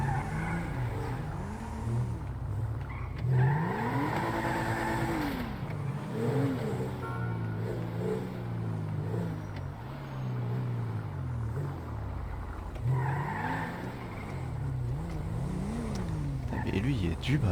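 Several cars manoeuvring and being parked side by side to form an honour guard, engines idling and revving with low, shifting drones and occasional louder swells, with people talking over them throughout.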